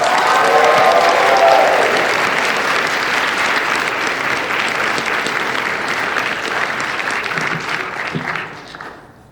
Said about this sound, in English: Everyone, please give a warm round of applause to Ziba Scott.